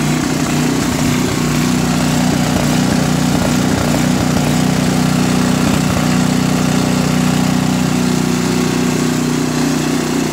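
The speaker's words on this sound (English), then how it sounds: "You can hear how it's revving like this." A small engine fitted with a Nikki carburetor runs on high throttle with the choke on, surging in a steady loud drone that rises and falls slightly, close by, with no talking.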